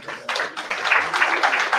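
An audience at a job and career fair claps, a burst of many hands starting after a brief pause and continuing in a steady, moderately loud patter.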